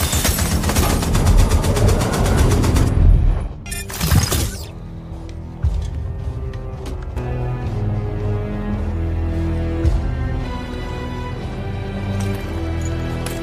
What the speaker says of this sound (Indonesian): robot itu yang dilengkapi senjata dan langsung menembak ke arah mereka